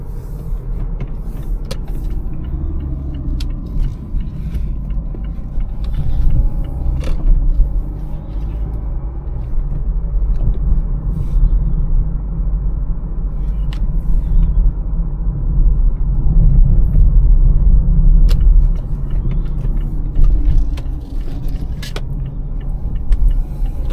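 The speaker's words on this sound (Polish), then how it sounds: "Teraz jadę z górki na odpuszczonym gazie, no to musi być pełne ładowanie." A Mazda CX-3 coasting downhill with the throttle released gives a steady low road and engine rumble heard from inside the cabin, fairly loud and continuous throughout, with no talking.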